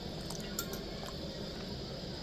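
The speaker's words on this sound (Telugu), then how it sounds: "ఇప్పుడు ఎసరికి సరిపడినంత నీళ్లు పోసుకొని" Water poured into a pressure cooker of rice for Guntur gongura pulao, a steady soft liquid wash and trickle running continuously without a break, fairly faint and close, with no talking.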